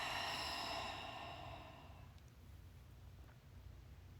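A long, soft exhaled breath during a yoga Warrior Two pose fades out over a few seconds, quiet and close, followed by faint room hush.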